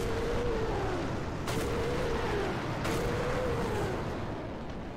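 Rocket volley from a Panzerwerfer 42 half-track launcher in War Thunder: two sharp broadband blasts a little over a second apart over a steady engine drone and a wavering whine, fairly faint and distant.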